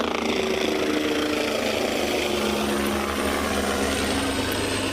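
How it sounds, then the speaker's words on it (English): A helicopter flies an anti-poaching patrol over a South African safari reserve, its engine and rotor giving a loud, steady, continuous drone with a low pulsing throb and no voices. "So that noise you hear in the background is a helicopter,"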